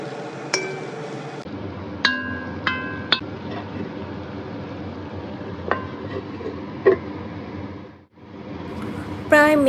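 Prawns and pointed gourd are stirred in a pan with mustard-poppy paste water. A metal spatula clinks against the pan several times in sharp, scattered hits over a low, steady sizzle.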